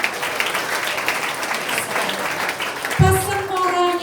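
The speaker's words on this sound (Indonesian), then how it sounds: "Wow, tepuk tangan dong." Audience applause at an insurance agents' talk, a moderate wash of clapping with voices over it, followed by a speaker starting to talk near the end.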